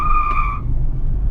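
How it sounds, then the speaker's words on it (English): An electric SUV, a Mahindra XUV400, spins its wheels on the road in sport mode, giving a loud, steady tire squeal under a heavy road rumble that dies away after about half a second. "See the kind of wheel spin on the road."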